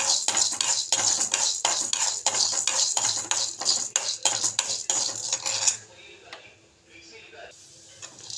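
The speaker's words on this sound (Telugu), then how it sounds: "ఇదే బాండీలోకి మినప్పప్పు కూడా వేసుకుందాం" Urad dal roasts in a pan and is stirred briskly with a metal spoon, giving rapid clinking scrapes against the pan that stop partway through, leaving quieter rustling and faint voice-like murmur afterward.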